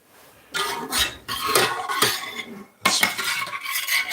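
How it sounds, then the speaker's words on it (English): A spoon stirring homemade hot sauce in a hot container, with scraping and clinking strokes in two bursts separated by a short pause, heard up close. "Let's give him a good stir."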